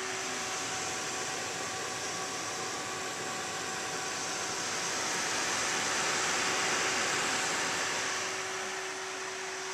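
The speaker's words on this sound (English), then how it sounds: "Sounds so loud now because I don't have the fan controller software installed yet, so it's running full tilt." An Antec Kuhler H2O 920 liquid cooler in an NZXT Vulcan case runs its fans at full speed with no fan control, giving a loud, steady airy whoosh with a faint tonal hum that swells slightly midway.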